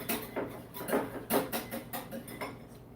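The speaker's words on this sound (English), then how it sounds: "Whisk it in." A whisk beating a mixture in a bowl while making a Valentine's Day dish, giving a close, irregular series of quick clinking and scraping strokes against the bowl with no talking.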